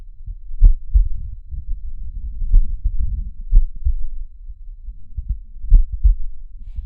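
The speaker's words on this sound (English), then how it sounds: "You hear this heartbeat on one note, just goes through the whole thing while other things happen around it." A dancing bear's heartbeat, low soft thumps coming in similar pairs separated by long gaps, repeating steadily on its own over a quiet hum.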